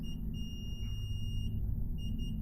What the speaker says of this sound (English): And the controller is beeping.